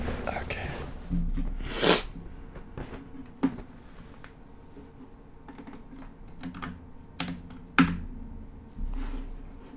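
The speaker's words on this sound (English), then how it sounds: "Let's type that in." Close typing on a computer keyboard at a desk during content planning, with scattered irregular key clicks, a few louder taps, and soft breathy vocal noises and quiet murmuring between the keystrokes.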